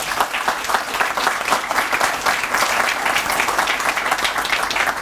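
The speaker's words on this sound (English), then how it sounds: "If people could hold their applause and applaud at the end of this group." An audience applauds continuously at a ribbon cutting ceremony, dense sustained clapping from many hands at steady volume with no talk over it.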